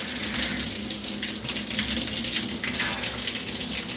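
Cold water runs from a shower in a steady, loud hiss and splash, continuous and close with no voices.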